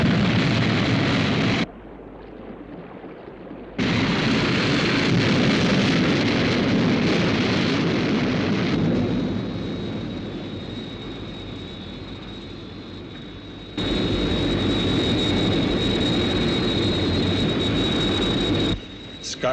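Sky 1 interceptor from the 1970 TV series UFO lifting off: a loud, sustained jet-like roar with a brief dip, then a steady rushing thrust that swells again near the end, alone without talk.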